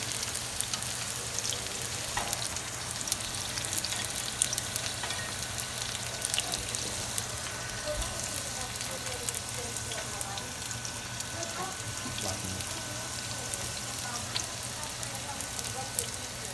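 Egg rolls filled with garbanzo beans and wild rice fry in a pan, giving a steady, crackling sizzle of hot oil that runs throughout at close range, with no talk over it.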